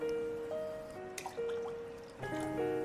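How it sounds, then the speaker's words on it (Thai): Warm water trickles and splashes into a pot of eggs in short pours, with clinks of metal and some tonal ringing throughout. "ที่ต้องใส่น้ำอุ่นลงไป"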